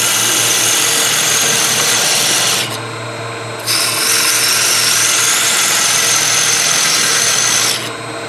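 A wood lathe spins as a shallow fluted gouge cuts beads, giving a steady scraping, rasping hiss over a low motor hum, with a brief pause in the cutting midway and another near the end.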